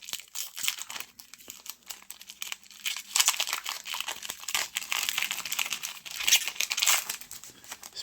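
Thick plastic trading card packs for a Clone Wars card game being ripped open by hand, a steady run of close crinkling and tearing plastic with sharper crackles near the end, no talking.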